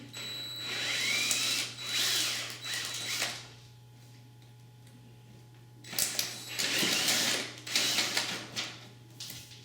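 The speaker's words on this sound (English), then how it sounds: "Having exchanged the drill bit now to a 6mm hole, it should be easier to go through the template" Power drill boring a 6mm hole through a template on a tilt-and-turn window hinge, with two separate bursts of whining drilling separated by a quiet pause, close and fairly loud over a low steady hum.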